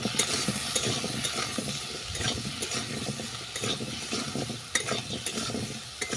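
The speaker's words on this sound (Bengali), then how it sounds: "আবার একটু নেড়ে ছেড়ে নিলাম।" Jujube pickle fries in a pan while being stirred, a close crackling sizzle broken by repeated scraping strokes and small knocks of the spoon against the pan.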